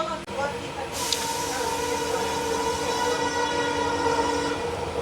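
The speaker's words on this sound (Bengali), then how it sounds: "একটা ট্রেন এখন ঢুকছে।" A passenger train on the Mizoram–Kolkata route pulls into a station platform, a steady rumbling roar with a brief higher whistle-like burst near the start, continuous and close throughout.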